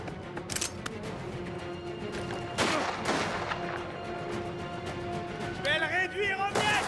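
Sniper gunfire in the video game Mafia: The Old Country: a few sharp shots crack amid game ambience, with a louder burst near the middle and speech under the action.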